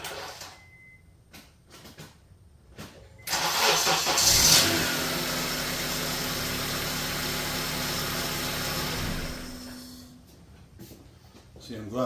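Honda starter motor with worn, bad brushes cranking on a test bench, a loud steady whir holding for about six seconds before winding down, with a person talking faintly before it starts.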